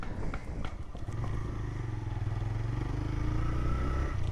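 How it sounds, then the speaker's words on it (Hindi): A motorcycle on a village road in Bihar, its engine droning steadily and gaining pitch as the rider accelerates, heard close from the bike itself with a little rattle at the start. "बाइक को गति प्रदान करते हैं।"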